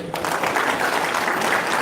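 A room full of people applauds, a dense, steady clapping that carries through the whole short moment.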